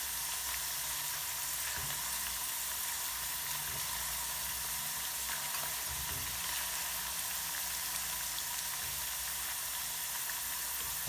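Chips fry in a pan of oil with a continuous, even sizzle and fine crackle, close and steady throughout, with no one talking.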